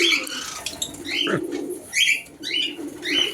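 Cockatiels kept in small wire cages call with short, bright chirps and whistled notes, repeated several times at close range over a low background murmur.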